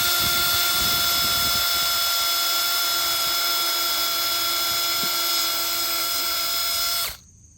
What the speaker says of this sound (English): Let's drill a pilot hole first.